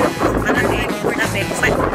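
Gusty wind at Yehliu Geopark in Taiwan buffets the microphone with a broad roaring rush, fairly loud and continuous throughout.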